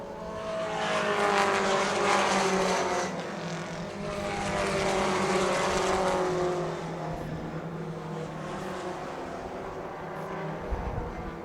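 Four-cylinder pro race cars lap a short track, engines droning and swelling as they pass, fading, then building again, with a steady roar underneath throughout.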